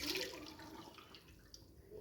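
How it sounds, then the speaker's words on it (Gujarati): Hot water is strained off soaked sago pearls while making sabudana kheer, giving a soft, steady pour and trickle of water that is a little stronger at the start, with no talking. "તો હવે આપણે આ બધું જ પાણી ગાળી લઈશું।"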